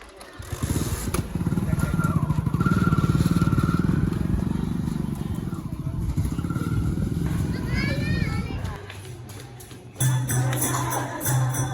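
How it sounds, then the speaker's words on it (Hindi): Motorbike labouring up a steep hill, its engine droning loudly near the microphone for several seconds, then fading and returning, with people talking over it. "अब आप क्या सोच रहे हो इस चढ़ाई पे बाइक चढ़ाने की?"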